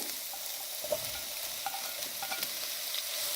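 Vegetables and mushrooms sizzle and sauté in a pan for a veggie sandwich, a steady close hiss broken by scattered pops and crackles, with no talking.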